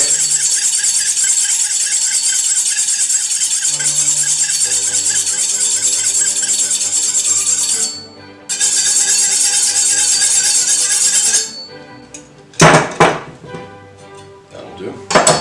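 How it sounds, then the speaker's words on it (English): A kitchen knife is honed on a steel before carving tri-tip, giving a steady run of bright metallic scraping strokes for most of the stretch, then a brief pause and a few sharper clanks at the end. "we're going to put a quick edge on"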